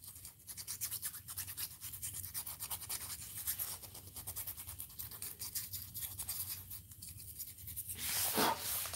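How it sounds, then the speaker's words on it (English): A nail file rasps across a stone surface, roughing up a rock for resin in rock art: a quick, steady back-and-forth scratching, close and continuous, growing a little louder near the end. "it's a nail file."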